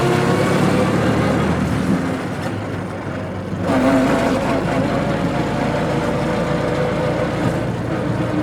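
A 1915 Hispano Suiza powered by an 18.5-liter V8 World War I airplane engine drives along in neutral. Its deep engine drone and road roar are loud and steady, easing briefly before swelling again.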